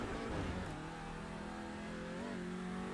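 A front-wheel-drive Audi TCR RS3 LMS race car in the iRacing simulator, its engine loud and continuous, revving up and shifting through gears with rising and falling pitch, no talk.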